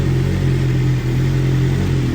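A 2023 BMW M1000RR Competition sport bike engine runs steadily nearby, a loud, even, unbroken drone with a faint rough edge, alone with no talking.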